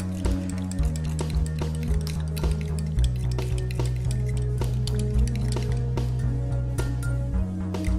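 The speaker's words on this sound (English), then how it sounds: "Now I'm going to add my tapioca starch, also known as tapioca flour. Mix it all together." A utensil stirs tapioca starch into a homemade vegan deodorant mixture in a bowl, making repeated light clinks and scrapes beneath steady background music.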